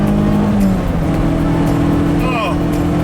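A Volkswagen Scirocco 16V engine drones loud and close while driving, holding a steady rev under the cabin, with someone talking over it.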